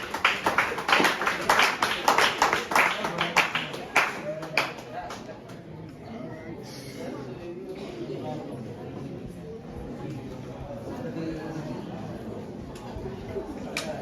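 Audience applause for school contestants at a science and maths quiz final, a burst of clapping that fades after about five seconds into murmuring crowd chatter and room noise.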